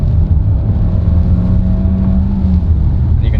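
A 2024 Hyundai Santa Fe engine in sport mode revs loudly from inside the cabin, a sustained low droning hum with a rising tone that holds steady throughout.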